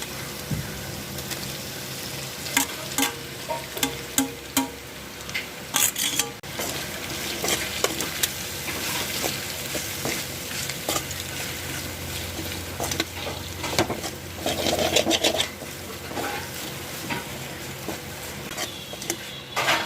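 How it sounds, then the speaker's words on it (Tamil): Macaroni pasta stirred and frying in a pan, with steady sizzling and repeated scraping stirs close up, no talk. "இப்போ நம்ம பாஸ்தாவை சேர்க்க போகிறோம்."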